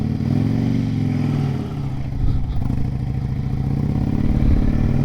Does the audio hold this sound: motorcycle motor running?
yes